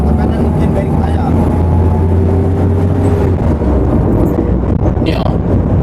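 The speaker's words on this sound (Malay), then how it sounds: "Macam bunyi axle pun ada bang." Steady, loud rumbling drone inside a moving van, a low grinding hum from the axle area beneath continuous road noise, with voices talking faintly over it.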